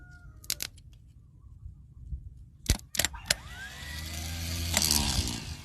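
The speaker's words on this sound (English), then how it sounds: "This is also a 390 starter that I had laying around here from an old car" A 390 starter motor salvaged from an old car is test-run, with sharp clicks and clacks followed by a rising mechanical whir that spins up and holds, close and loud with no talking.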